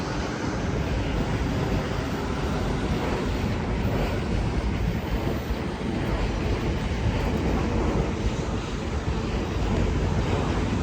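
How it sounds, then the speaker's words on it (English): A Southern passenger train departing Clapham Junction, heard as a constant broad rushing rumble with wind buffeting the microphone, steady and fairly loud throughout. "As the 1523 Southern Service from London Victoria to Littlehampton departs behind me"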